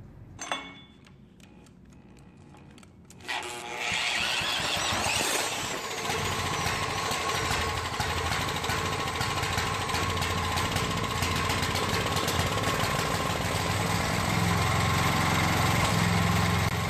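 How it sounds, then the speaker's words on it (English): A Coleman Powermate portable generator with a carburetor needing attention catches after a few brief pulls and settles into a loud, steady engine drone that runs uninterrupted to the end. "to make sure that the generator is actually outputting power"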